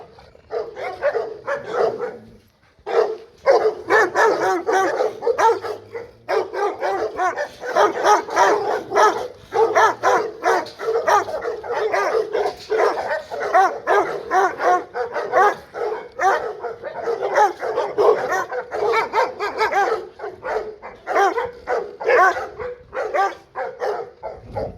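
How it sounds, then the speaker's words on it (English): Rottweiler dogs bark loudly and repeatedly at close range in rapid, overlapping bursts, with brief pauses and some whimpering yips mixed in. "Rottweiler."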